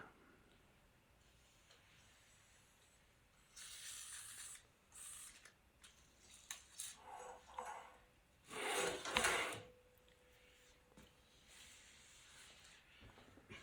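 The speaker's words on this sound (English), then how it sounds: "Maybe just a few more squirts of WD-40 up front before we go to the back." Short squirts of WD-40 spray on the mechanism of a Studer A820 2-inch multitrack tape machine under restoration: a few faint hissing bursts mixed with soft mechanical clicks and a brief ratcheting sound, quiet and close.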